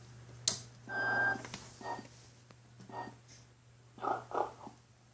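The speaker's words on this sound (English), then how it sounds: "I'll turn Mrs. Santa off so you can hear Mr. Santa." A Mr. Santa figure toy snores softly and rhythmically in the quiet, several breathy, raspy snores with whistling tones under a steady low electrical hum.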